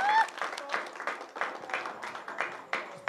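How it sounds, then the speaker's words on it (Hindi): Audience applause at the close of a historical Hindi stage play, steady dense clapping from a crowd filling the hall throughout, with a brief voice at the start. "इनके लिए एक बार जोरदार ताली बजाइए आप लोग।"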